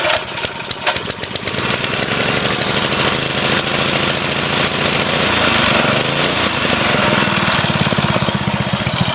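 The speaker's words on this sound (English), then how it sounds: "It isn't the best running engine, but it's a good one, nonetheless." A 1990 Briggs & Stratton edger engine running loud and close, a rough, rapid mechanical chatter that stays steady and unbroken, with no voices.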